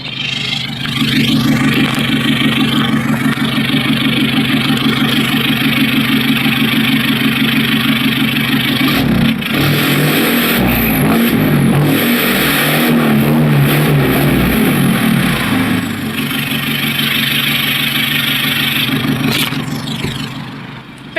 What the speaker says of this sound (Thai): ลูกค้าเดี๋ยวเราจะให้ฟังเสียงท่อ